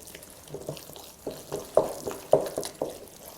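Spinach and egg pie filling stirred in a bowl, a series of soft wet squelches and scrapes in an irregular rhythm, close and fairly quiet, with no talking.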